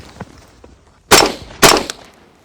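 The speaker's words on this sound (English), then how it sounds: "Run to the 15, fire 2 rounds of the torso standing in 6 seconds" Two sharp gunshots fired at a torso target during a SWAT/SRT firearms qualification, loud and close, spaced about half a second apart, each with a short echoing tail over quiet background.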